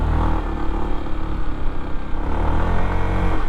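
An automatic motorbike engine revs up close with a buzzy, golf-cart-like whine, a loud continuous drone that swells and dips slightly with no pauses.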